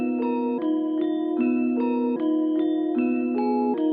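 A beat's intro melody programmed in FL Studio plays alone: clean synth chords and a bright stepping melodic line repeat in an even loop with regular note changes, loud and up front.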